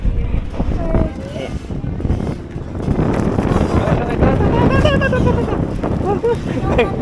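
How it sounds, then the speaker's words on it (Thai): Strong wind buffets the microphone at a floating raft restaurant on the river in Ayutthaya, a loud, constant low rumble and roar with voices faintly audible beneath it. "ลมแรงมาก"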